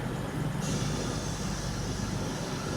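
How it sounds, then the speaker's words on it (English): Steady low rumble inside a train travelling back to London, a continuous quiet rolling drone of the carriage with no voices. "I had to get the train back to London"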